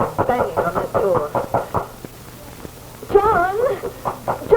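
In a 1979 CBS Radio Mystery Theater drama, a door is banged on repeatedly, with a series of knocks between stretches of voices talking.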